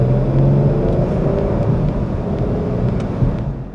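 A Jeep on a test drive, heard from inside as a steady low engine and road rumble with a faint whir, loud and continuous, with no talk.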